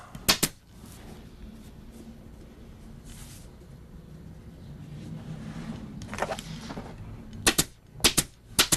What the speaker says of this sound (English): I just fold the hem so that it overlaps the edge of the cover fabric and staple it on